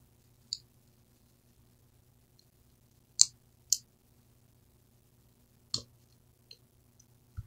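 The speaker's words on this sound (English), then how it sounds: "when I rip this gum off this pack right here, it'll probably activate" Gum torn from its pack in a quiet room: a few sharp, isolated crackles and clicks spaced irregularly over several seconds, close and otherwise near-silent.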